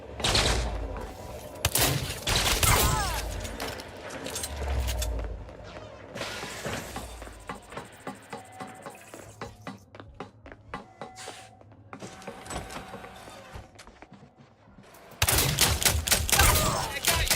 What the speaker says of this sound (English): Firing from the hip.